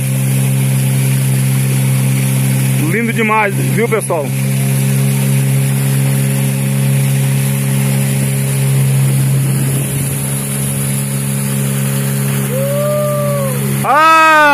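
An outboard boat motor drones steadily on a flooded river, a loud, constant mid-pitched hum running the whole time while someone speaks briefly and a few birdlike chirps rise over it.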